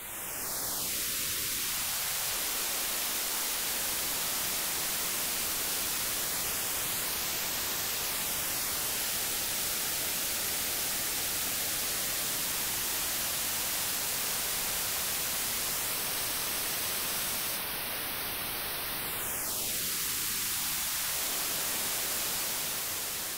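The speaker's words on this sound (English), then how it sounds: "So that's the basic sound of the new filter models on a droning wave." A droning synth wave runs through a notch filter, a steady hissing wash with a narrow dip that sweeps down, rises high, glides slowly lower, then climbs and falls again, constant in level with no voices.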